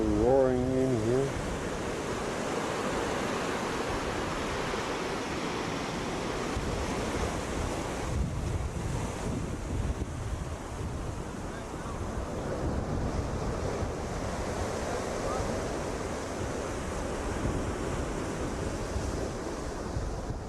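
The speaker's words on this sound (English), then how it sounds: "The water roaring in here." Water roars over rocks in a rocky spot on an Eastern Canada and USA trip, a dense, steady rush with gusty wind buffeting the microphone throughout, a short voice-like warble at the very start.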